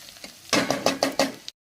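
Chopped onion sizzling in a little hot oil in a pan for Bengali chicken, with several rhythmic stirring scrapes about a third of a second apart, close and moderately loud, ending abruptly.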